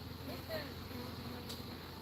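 Bees buzz around stacked hive boxes during a hive removal, a faint continuous drone with the occasional louder pass of a single bee close by.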